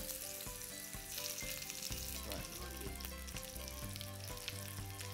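Pickled onions sizzling in a pan over the heat, a soft continuous frying crackle with faint clicks and the odd stir, quiet and close, no voices.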